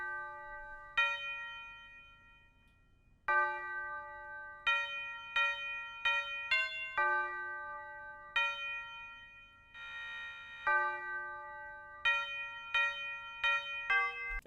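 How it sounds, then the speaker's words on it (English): A bright synthesized bell plays a slow melody of clear ringing notes with short pauses, clean and quiet with no other sounds, part of a rage-style beat. "Then we have the bell, which sounds like this."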